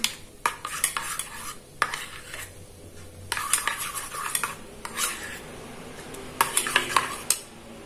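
Homemade lip balm ingredients are stirred together in a small container, with repeated close clinks and scrapes of a spoon against the sides in uneven bursts.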